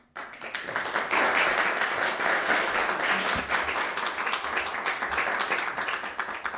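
A town council meeting audience breaks into steady applause, many hands clapping densely for several seconds at full volume before slowly thinning toward the end.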